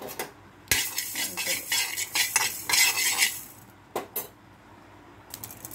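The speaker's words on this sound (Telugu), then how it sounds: "ఇది మెంతులు వేయించుకోవాలి" Metal spoon scraping and stirring fenugreek seeds as they dry-roast in a pan for lemon pickle, with irregular clinks and scrapes in bursts, then pauses and a few final taps.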